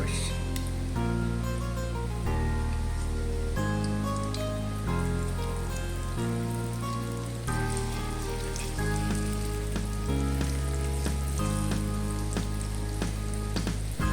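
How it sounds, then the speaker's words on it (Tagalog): Steady crackling sizzle of bangus fish frying in hot oil, continuous and close, with a musical background of sustained chords running underneath. "Prito na tayo ng mantika mga ka-viewers."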